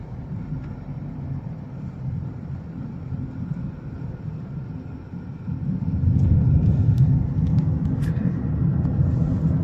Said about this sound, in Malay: Banyak bas tu. Bas pelancong.